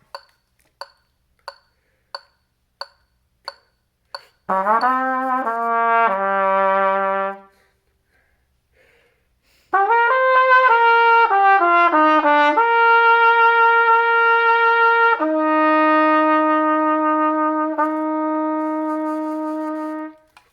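A trumpet plays a third-trumpet part: a run of short tapped notes, then sustained tones that step down, pause, and resume with held notes alone.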